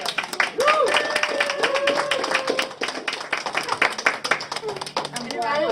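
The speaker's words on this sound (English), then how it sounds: "Let's just give a round of applause." Workshop audience claps in a steady close patter of many hands, with voices calling out over the applause.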